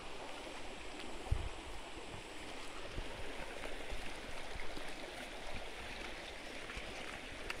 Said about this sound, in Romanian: aici curge apa asta dulce